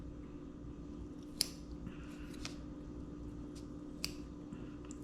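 A few faint, sharp snips of scissors trimming tissue around the optic nerve during a cow eye dissection, spaced irregularly over a steady low background hum.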